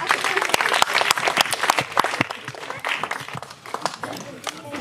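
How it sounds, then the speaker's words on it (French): An audience at a stand-up comedy show in Grigny, Paris, applauds comedian Séverine Nseka with dense, steady clapping that carries through the whole stretch while a voice talks over it. "Alors, on applaudit Séverine Ntseka."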